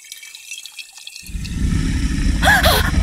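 Water runs steadily into a pitcher indoors as a loud, close, continuous splashing stream that starts abruptly and keeps going. A few bright drip-like tones sound near the end, and no one speaks.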